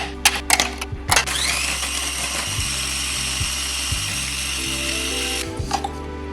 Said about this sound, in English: take our Oreos and grind them in our food processor until they're nice and fine